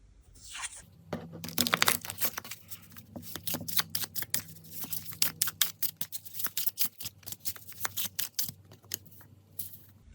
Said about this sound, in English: the deck shuffles really beautifully. It's a lovely shuffle.